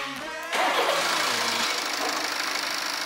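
A BMW 5 Series with badly degraded engine oil cranks briefly, then catches and settles into a loud, steady running rumble, with no one speaking.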